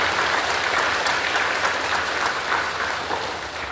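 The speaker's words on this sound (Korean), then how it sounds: "박수로" A church congregation applauding, a dense sustained wash of many hands clapping that fills the space and tapers slightly toward the end.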